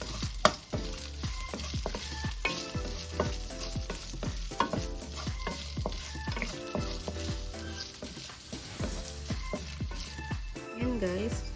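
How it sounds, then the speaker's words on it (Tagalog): Hotdogs fry in a pan with a steady soft sizzle, stirred often so utensil clatter and scraping land in quick repeated taps over the bubbling, close but fairly quiet. "ipiprito ko ang hotdog"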